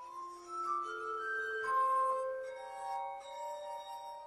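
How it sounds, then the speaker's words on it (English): Glass harmonica playing a slow Mozart piece, sustained pure ringing tones overlapping in a gentle melody, clear and alone with no voices. "Mozart wrote two pieces for the glass harmonica"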